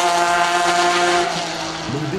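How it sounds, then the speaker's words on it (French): Porsche 911 RSR race car engine at the 24 Hours of Le Mans, a loud sustained drone with steady harmonic tones, its pitch shifting and rising near the end as the car passes close by. "le bruit de ce moteur est exceptionnel"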